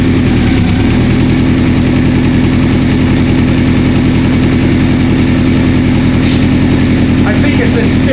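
A 1984 Honda CB700SC motorcycle engine runs loud and close in a steady, continuous drone throughout, with a voice briefly audible under the noise.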